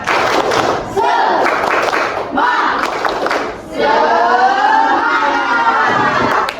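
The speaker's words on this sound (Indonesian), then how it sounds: "Tepuk semangat." A classroom of children performing the rhythmic 'tepuk semangat' spirit clap, loud thumping claps mixed with children's shouted chanting in bursts, close and energetic.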